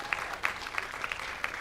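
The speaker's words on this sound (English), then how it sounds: "Let's have one more big round of applause." Crowd at a baseball game in the Mid-South Regional, Bossier Phillies versus Pontotoc Red Sox, clapping lightly: a thin, fairly distant patter of applause with a few sharper claps standing out.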